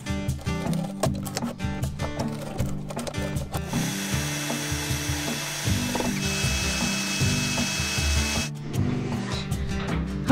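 A power tool cuts a sheet along a drawn template during a boat renovation. Close, harsh rattling and grinding runs nearly continuously, with a steadier sustained cutting stretch in the middle before it returns to choppier bursts.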